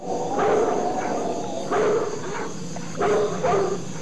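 A dog barks in Splinter Cell: Pandora Tomorrow on PlayStation 2 (2004), four sharp barks in two pairs, fairly close and loud over a steady game hum.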